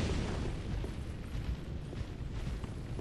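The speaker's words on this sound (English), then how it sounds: "he's summoning more fire orbs" Enemy summoning fire orbs in Dark Souls 3, heard as a dense, continuous low rumbling roar with booming bursts, steady and loud throughout without any talking.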